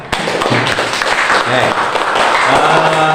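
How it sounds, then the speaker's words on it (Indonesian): Classroom students clap for a presenting group, with scattered uneven claps and some voices mixed in throughout. "Tepuk tangan untuk kelompok 3."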